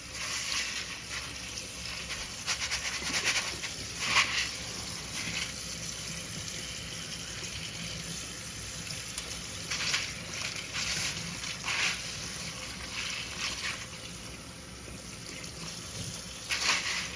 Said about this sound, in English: get those out as I'm rinsing these beans.